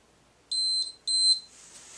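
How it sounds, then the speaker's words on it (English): Two loud electronic beeps from a workout interval timer during a beginners circuit training session, each lasting about a quarter to half a second with a short gap between, in an otherwise quiet room. "Now I'm going to stop this timer"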